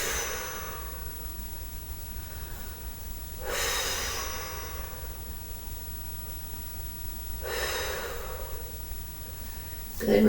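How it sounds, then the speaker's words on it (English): A yoga instructor breathes audibly during a slow stretch, with about three long, soft rushes of breath spaced a few seconds apart over a quiet background. "Hopefully you guys are hearing my breath"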